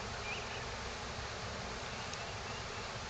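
Honey bees buzzing in a beehive during a May inspection after smoking, a faint, continuous low hum with light rustling and no talk.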